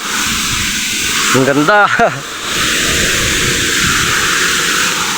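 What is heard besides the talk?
strong spray of water vapor from a hose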